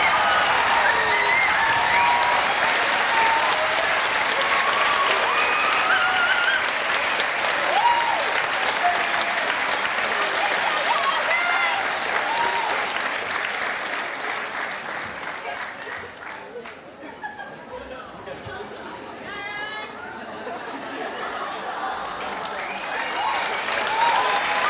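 Sustained audience applause fills a school academic awards ceremony, loud and steady for about fifteen seconds, then thinning and swelling again near the end.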